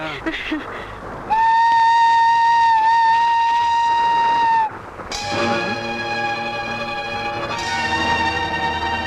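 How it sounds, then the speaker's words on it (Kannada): A passenger train rolls along the rails, sounding a long steady whistle blast and then a second, richer whistle over a low rumbling run. "ರೈಲು ಹೋಗ್ತಾ ಇದೆ, ಮುಂದಿನ ಸ್ಟೇಷನ್ ಇಳಿತೇನೆ"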